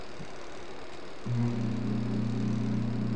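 A spin dryer motor kicks on after its door switch is pressed, settling into a steady, loud low electric hum that continues to the end after a quiet start.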